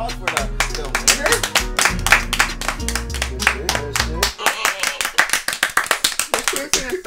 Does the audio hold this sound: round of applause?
yes